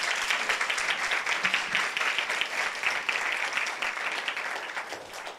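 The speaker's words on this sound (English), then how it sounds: "I think we should give him a round of applause, a very loud one." A round of audience applause after a masterclass address, with steady, dense clapping at a moderate level that gradually tapers off toward the end.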